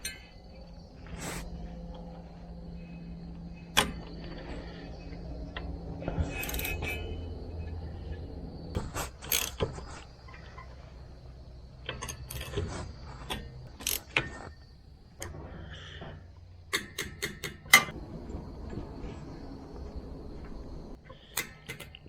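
Ratchet with a swivel extension working a bolt during a Canycom Razorback transmission install, giving scattered sharp clicks and ticks in irregular bursts over a low mechanical background, with quiet gaps between.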